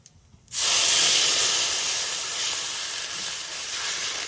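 Water hitting hot oil in a pan for a chital fish and potato curry broth, bursting into a loud, steady hiss of steam and spattering after half a second of quiet, then sustained close up with no talk.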